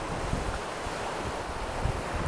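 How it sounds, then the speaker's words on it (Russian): Wind and waves at the edge of the vast Kuibyshev Reservoir on the Kama, a steady rushing wash with microphone wind buffeting, no voices. "Наше Камское море, Куйбышевское водохранилище огромное."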